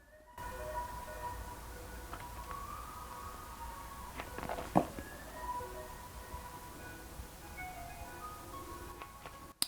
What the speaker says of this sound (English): Can you hear the ice cream truck?